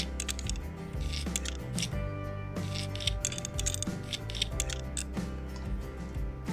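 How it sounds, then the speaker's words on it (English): Screws being driven into a motherboard in the PC Building Simulator game, a run of quick, crisp clicking and ratcheting ticks over a low background music bed, with no speech. "Motherboard's inlaid, so we'll just put the screws onto the board now."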